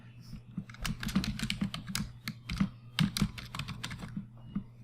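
Rapid clicking of typing on a computer keyboard while a password is entered, steady close keystrokes in quick irregular bursts over a low constant hum.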